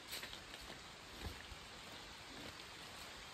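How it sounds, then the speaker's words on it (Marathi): Monsoon rain falls steadily on a village path in Konkan, a soft even hiss with no voices, faint and close. "पाऊस इलो मित्रांनो"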